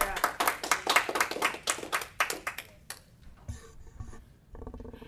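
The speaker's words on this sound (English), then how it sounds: "if we could not clap because it takes a lot of time" An audience at a city council meeting claps loudly for about three seconds, then the applause thins out and stops as scattered room noise follows.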